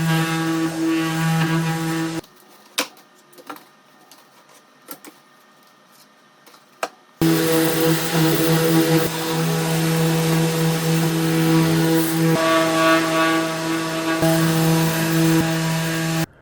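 A loud, steady whirring of a power sander on the wood of a 100-year-old Stanley carpenter's tool chest runs, cuts out for a few seconds with only scattered clicks, then resumes at full volume.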